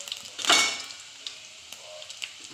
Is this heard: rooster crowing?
no